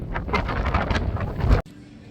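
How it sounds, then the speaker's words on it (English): Gusty wind buffets an outdoor microphone in steady low rumbling bursts for about a second and a half, then cuts off abruptly to a much quieter background. "Windy."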